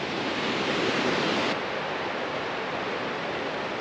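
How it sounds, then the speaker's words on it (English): A waterfall in Idaho pours out a loud, steady roar of rushing water that fills the whole moment without a break. The roar eases slightly partway through and no one speaks. "This is a really incredible waterfall."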